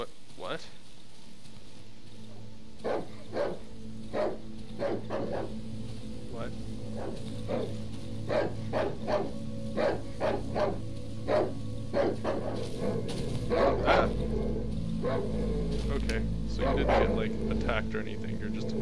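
A dog barks repeatedly in the dark survival horror game Darkwood, a run of sharp, fairly close barks with steady game ambience and a low rumble building near the end, while someone talks over it.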